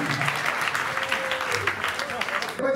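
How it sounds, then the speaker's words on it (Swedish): A comedy club audience at a stand-up show applauds for a birthday guest, with bright, dense clapping that runs steadily while voices talk over it. "En applåd till Stonken."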